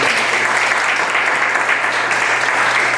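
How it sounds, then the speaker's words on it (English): Dense, steady audience applause at a tavern concert of Revolutionary-era Gloucester music in a museum, loud and continuous throughout with no pauses. "let's give another round of applause to Laura Heinemann"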